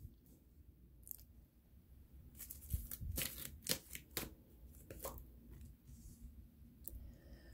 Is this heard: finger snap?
no